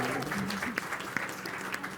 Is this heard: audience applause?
yes